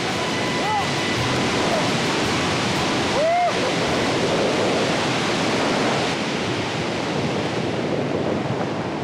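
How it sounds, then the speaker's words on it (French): A powerful, steady roar of rushing wind in a wind tunnel fills the whole stretch, loud and unbroken, with a couple of faint whistling tones. "La vitesse du vent augmente."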